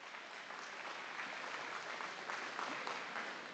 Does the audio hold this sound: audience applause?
yes